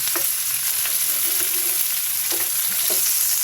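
Shrimp and bay leaf frying in a pan for a banana flower dish, a loud, steady sizzle with occasional stirring clicks and pops, close and uninterrupted.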